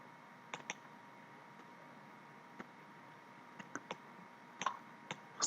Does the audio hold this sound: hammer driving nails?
no